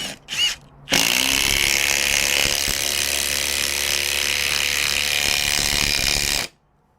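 A Milwaukee M18 2953 impact driver with a 9/16 inch socket drives a 3/8 by 3 inch lag bolt, a loud continuous hammering rattle lasting about five seconds after a brief start, then stopping abruptly.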